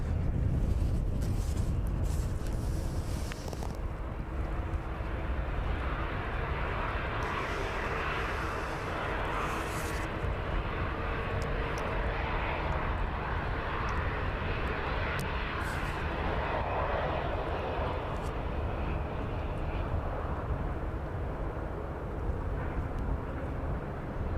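A Jet2 passenger airliner at East Midlands Airport gives a steady, broad engine roar that holds loud throughout, with wind buffeting on an outdoor microphone and no talking.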